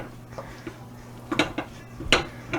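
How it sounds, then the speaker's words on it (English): Melting chocolate stirred in a pot with a utensil, a few sparse scraping clinks of metal against the pan over a faint steady hum, close and fairly quiet. "We're just stirring, kind of moving it around, making sure everything gets melted and mixed."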